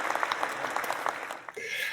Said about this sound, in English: Insert applause.